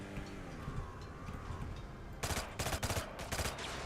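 SMG gunfire in the video game Brigador Killers: after a quiet stretch, several rapid bursts of automatic fire rattle out in quick succession over faint background sound.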